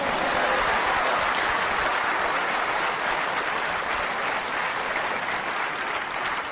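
Loud, sustained applause from a large crowd at the snooker World Championship, a dense steady roar of clapping that fills the whole stretch without letting up.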